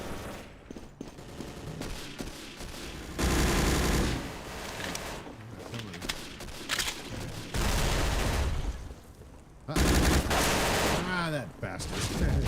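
Bursts of gunfire and rapid machine-gun shooting come in loud, dense volleys separated by quieter stretches, with voices talking at times between and under the shots.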